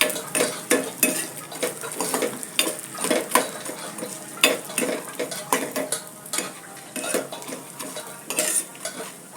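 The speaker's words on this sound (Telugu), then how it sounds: "ఇలా వేయించాలి." Ingredients fry in a pan, a soft sizzle running under repeated sharp scrapes and clinks of a metal spoon stirring against the pan, close and irregular.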